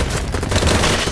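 Loud, close automatic gunfire in a free-to-play shooter, coming as one brief dense burst of rapid shots.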